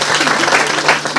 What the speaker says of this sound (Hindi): सरता बहन जी के लिए जबरदस्त ताली